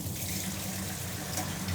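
Water from a bucket flotation sample is poured into a sieve, making a continuous splashing trickle at close range with a low background hum.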